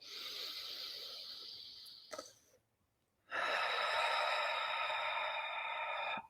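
Close to the microphone, a slow, airy inhale runs for about two seconds, breaks into a brief silence, then gives way to a long, steady exhale.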